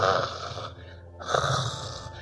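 A person snores in two long, loud rasping breaths with a brief quiet gap between them, close and steady.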